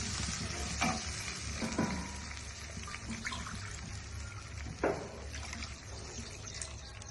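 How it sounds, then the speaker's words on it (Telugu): Onions fried until reddish in a pan for a gram-flour chakki curry, with water poured in: a steady, close broadband sizzle and hiss runs throughout, broken by a few brief louder bursts of bubbling and stirring. No talking. "వేగినాక ఇది ఉల్లిగడ్డ మంచిగా ఎర్రగా అయినాక 2 గ్లాసుల నీళ్ళు పోసుకోవాలి."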